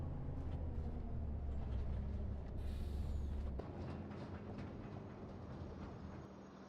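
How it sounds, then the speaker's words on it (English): Electric transport truck driving in Farming Simulator 25 on a Western Australia map, a steady low whirring drone with a brief higher whine in the middle, continuous and fairly close with no voices. "This is an electric vehicle."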